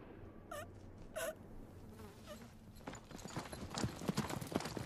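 Hooves clip-clop at a slow, uneven pace on hard ground, fairly faint, with buzzing insects and rustling nearby.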